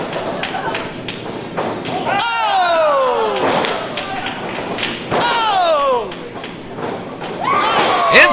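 Heavy thuds and slaps of bodies and superkicks hitting a wrestling ring at an IWA Unlimited show, with a crowd roaring and cheering and a commentator talking over the action.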